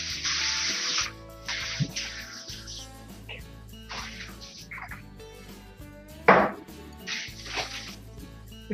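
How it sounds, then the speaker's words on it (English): Several short hissing bursts of non-stick coconut oil cooking spray come in quick succession, each about a second long, with a few clinks and knocks of kitchenware between them. "I just have some non-stick coconut oil spray."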